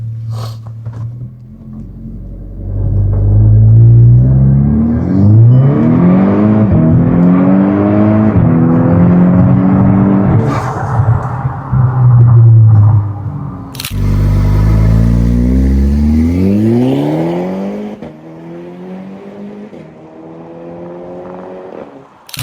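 A Volkswagen Golf R launches hard from a standstill, its engine roaring loud and close as it climbs through several rising gear sweeps, with brief breaks at the shifts, before the revs fall away.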